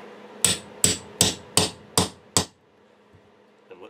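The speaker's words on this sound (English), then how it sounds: "We stick the anvil through the hole and give it a couple of whacks." Six sharp, evenly spaced hammer blows strike a setter over an anvil to fix hardware onto a canvas rucksack. Each blow rings out loud and close, followed by near silence.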